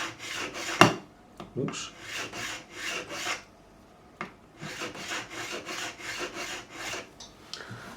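A file scraping across a guitar part on a Harley Benton Custom Line SC P90 single-cut, in rhythmic back-and-forth rasping strokes close by, with a brief pause and a single sharp tap early on; someone speaks one short word.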